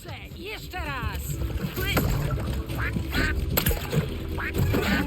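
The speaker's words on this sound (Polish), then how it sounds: "Mam bombową kaczkę." Cartoonish quacking from the bomb duck in the video game LEGO Horizon Adventures, several short bursts repeating over busy game music and effects, with someone talking throughout.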